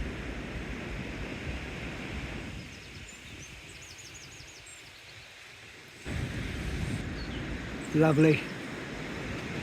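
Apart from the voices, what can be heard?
sea waves on the shore with wind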